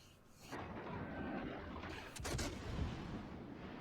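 Warship main guns firing shells in World of Warships Legends aboard the Soviet cruiser Molotov, a heavy booming salvo followed by rumbling roar and a second blast, fairly distant and muffled.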